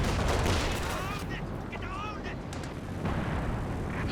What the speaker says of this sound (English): These Tulip rockets out of this world.